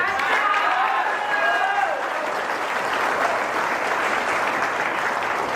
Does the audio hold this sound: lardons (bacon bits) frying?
no